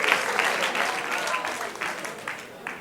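Congregation applauding during a church service: a dense patter of many hands clapping at fairly close range, holding steady for a few seconds and then easing off slightly.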